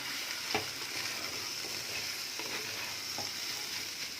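Chicken filling for Kabul rolls is stirred and mixed in a frying pan over a steady sizzle, with a few soft scrapes of the spoon breaking through; no talking.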